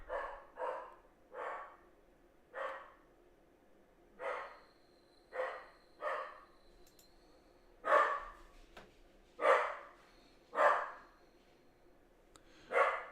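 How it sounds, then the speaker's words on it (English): Dog barking indoors in a home trading setup, around a dozen separate sharp barks in loose pairs and singles with quiet gaps, moderately close and heard alone. "Dog is just going crazy over here."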